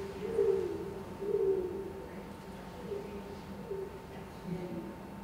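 A soft, repeated cooing bird call rises several times from a quiet nature preserve, faint and somewhat distant over a low outdoor hum.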